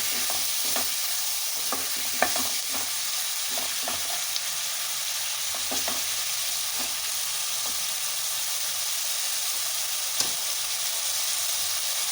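Chicken pieces sizzling in a pan for chicken gravy, a steady bright hiss of frying with scattered scrapes and clicks of a spoon stirring, close and continuous without any talk.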